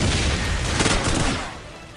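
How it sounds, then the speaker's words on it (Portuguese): Loud, dense burst of rapid gunfire during a duel in a shooter game, shots blurring into a roaring volley that tapers off toward the end. "após uma troca de tiros, Wings toma a primeira kill."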